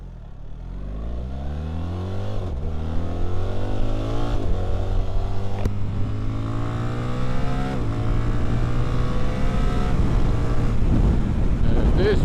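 A BMW R 1300 GS adventure motorcycle accelerates hard, its engine note climbing through several gear changes, loud and close. Wind buffets the microphone throughout.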